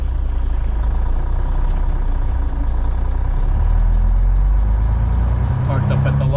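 Trucks parked at a Love's truck stop, heavy diesel engines idling with a steady low rumble close by, a person talking over it.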